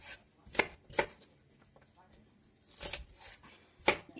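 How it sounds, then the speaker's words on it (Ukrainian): Onion chopped coarsely with a knife on a board, four or five separate crisp thuds at uneven intervals, close and clear against a quiet kitchen. "Кришу цибулю."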